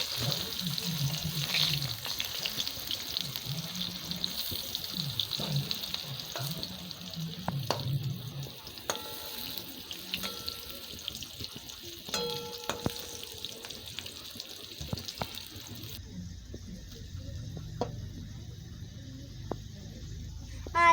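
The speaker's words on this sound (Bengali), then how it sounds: "আলুগুলো মোটামুটি ভাজা হয়ে গেছে" Steady sizzling of potatoes frying in a pan, with occasional scrapes and clinks of stirring, fairly close and continuous throughout.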